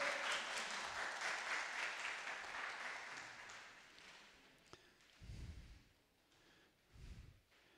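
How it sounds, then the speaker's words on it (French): An audience applauds a guest at a French religious gathering, a steady clapping that fades away over several seconds, followed by a few soft rustles and breaths. "On peut l'applaudir, hein, d'être là."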